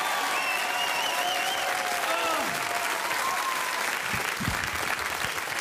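Studio audience applause on a radio show, loud and dense throughout, with faint musical tones lingering underneath early on and a brief low thump near the end.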